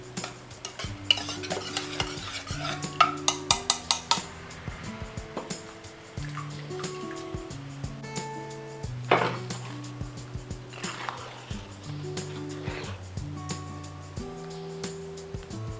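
Cooked dal and tomato for hotel-style sambar get knocked out into the sambar pot: a run of sharp metallic taps and scrapes, then softer stirring and clinks, all under steady background music.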